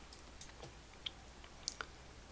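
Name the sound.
mouse clicking while using Illustrator pen tool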